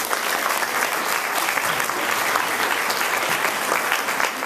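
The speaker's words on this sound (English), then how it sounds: "I'd just like to give her one more round of applause." A room full of people at an award event gives continuous, dense applause, loud and steady throughout.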